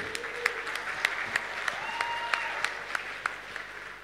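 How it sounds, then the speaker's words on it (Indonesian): An audience at an Indonesian anti-drug talk show in Banyuwangi applauds steadily, a sustained wash of clapping with a few sharper individual claps standing out, heard from within the hall. "Kasih aplaus dulu dong"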